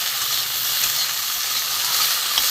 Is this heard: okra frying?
yes